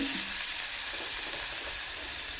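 A few fenugreek seeds drop into hot oil in a home kitchen, setting off a dense, loud and continuous close sizzle that holds evenly throughout with no voices.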